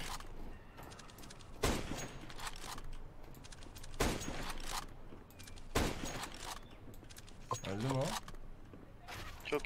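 Video game gunfire in a first-person shooter: sharp single shots ring out every couple of seconds, moderately loud, under and between casual voices chatting.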